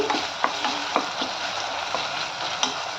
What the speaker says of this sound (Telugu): బాగా వేగాలి, కొంచెం మంచిగా వేగేదాకా వేపించుకుందాం.